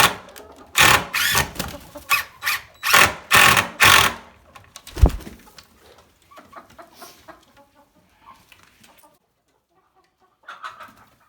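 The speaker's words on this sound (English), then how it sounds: "Chickens seem happy with the roosting bars all fixed up and fresh shavings on the floor." Chickens in a coop with roosting bars and fresh shavings. A loud rhythmic run of nearby scratching or flapping bursts gives way to soft, scattered clucks and rustling.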